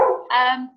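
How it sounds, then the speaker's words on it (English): A neighbouring dog lets out a single close bark that slides into a higher whining yelp, short and fairly loud, with no talk over it. "That's my neighbor's dog, part of the interview today."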